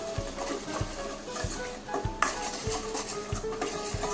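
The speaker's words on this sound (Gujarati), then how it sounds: "હવે બધું મિક્સ કરી લઈએ" A spoon stirs a spice mixture with onions for panipuri ragda in a pan, tapping the rim in a regular beat about every half second over a light sizzle, close and clear.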